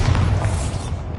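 A Bombarda spell explosion from the Hogwarts Legacy video game on PS5: a dense, sustained low boom with a rumbling body that stays loud across the whole moment before easing slightly at the end.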